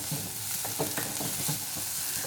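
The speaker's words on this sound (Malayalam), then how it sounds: "വിനാഗിരി ഒഴിച്ചതിന് ശേഷം നന്നായിട്ടൊന്ന് മിക്സ് ചെയ്ത് കൊടുക്കാം." Chopped vegetables with a splash of vinegar are stirred in a hot frying pan for restaurant-style vegetable fried rice, giving a steady close sizzle broken by soft scraping and clattering stirs.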